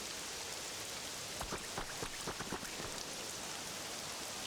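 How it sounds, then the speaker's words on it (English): Heavy rain falls steadily in the video game Pokemon Pokopia, a constant broadband hiss with a few brief patters mid-clip, no voices over it. "Wow, it's raining really hard,"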